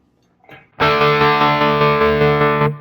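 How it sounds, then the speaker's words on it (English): Quad Cortex modulation effect driven by an unsmoothed saw wave on a distorted guitar, a sustained chord pulsing in sharp, regular swells about six times over two seconds, loud and alone after a brief quiet lead-in. "So here's the saw on with no smoothing."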